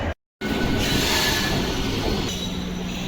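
A train rumbles and clatters along the rails at Santragachi station, a steady loud mechanical roar with faint squealing, no voices.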